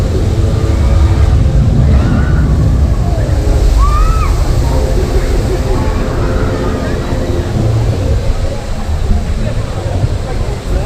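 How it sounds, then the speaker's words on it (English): At the Jurassic Park water ride in Islands of Adventure, heavy water sloshes and splashes continuously as the ride comes down into the splash zone, with scattered crowd voices and faint screams in the background. "This is the splash zone over here. And watch what happens when the ride comes down."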